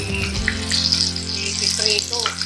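Okoy fish fritters sizzle and crackle in hot frying oil, a close, steady hiss with a faint low hum underneath and a voice speaking briefly.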